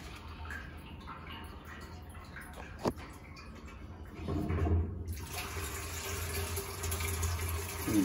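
A pump moves peach wine into a container with a steady wash of liquid flow and motor noise that grows louder and fuller about halfway through, with a brief knock near the start.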